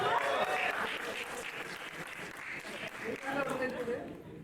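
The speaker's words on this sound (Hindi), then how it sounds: "जोरदार ताली" Audience applause welcomes the producer of the Odia film Dasama onto the stage at an event, a soft, steady clatter of clapping with crowd murmur over several seconds.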